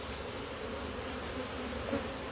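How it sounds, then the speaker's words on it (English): A bee hums in a close, steady drone, faint but continuous, with a slight swell near the end and no voices over it. "It wasn't mother, but it was a bee."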